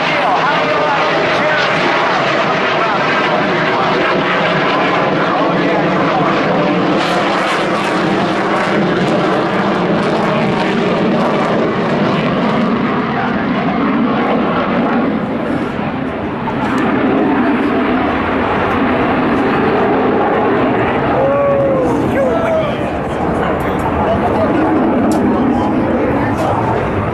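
An F/A-18 fighter jet at the NAS Oceana airshow, its loud continuous engine roar filling the air and swelling and easing as it passes, with a voice speaking over it.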